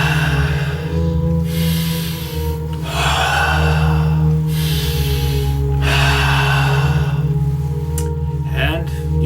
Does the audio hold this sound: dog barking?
no